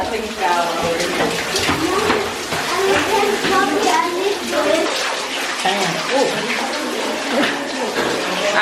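Water running and splashing steadily from the good-luck fountain at Moussa Castle in El Chouf, Lebanon, close and continuous, with a person talking over it throughout.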